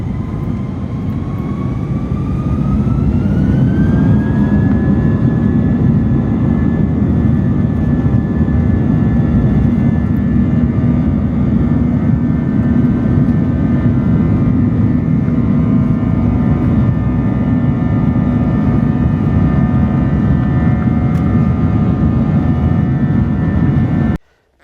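Steady jet engine roar inside an airliner cabin on a flight to Buenos Aires, a loud continuous low rumble with a rising whine settling into a sustained tone, no talking.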